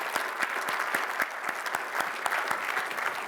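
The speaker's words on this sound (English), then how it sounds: "let's give her a round of applause" An audience at a talk on career and technical education claps steadily in a short, dense burst of applause, moderately loud and close, with no one talking over it.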